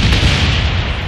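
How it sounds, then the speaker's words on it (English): A napalm strike and mortar blasts in a combat video game set on a Berlin Wall map roll as a loud, sustained, rumbling explosion with heavy low-end boom, filling the whole moment. "Napalm strike coming in. Friendly mortars inbound."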